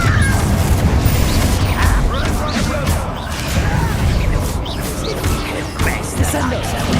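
Confringo fire blast spell in Hogwarts Legacy combat, a dense stretch of crashing impacts, whooshes and booming bursts layered over a loud rumbling battle din, with a voice speaking through the action.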